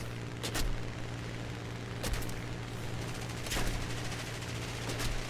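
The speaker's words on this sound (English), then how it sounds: "Now I'm getting shot up pretty good because I'm right in between them." Machine-gun fire striking the player's plane in War Thunder, several short rattling bursts over a steady engine drone, heard at moderate loudness with no talking.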